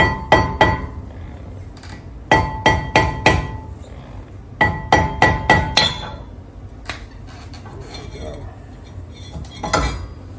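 A stuck brake rotor on a third-generation Toyota Tacoma being tapped loose with a hammer, sharp metallic clanks in quick bursts of three to five strikes with pauses between, loud and close, with no talking.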